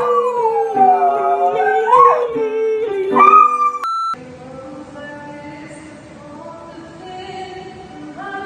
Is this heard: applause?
no